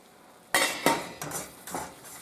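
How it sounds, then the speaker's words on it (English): Metal clanks of a lid settling onto a cooking pot: a few sharp, close knocks and rattles in quick succession, with faint cooking noise between them. "I'm going to turn the fire down and put the lid on it for a couple of minutes"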